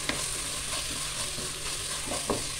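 Tomato and roasted ground masala sautéed in a pan for a chicken curry, giving a close, continuous sizzle with a few spatula taps, heard without voices.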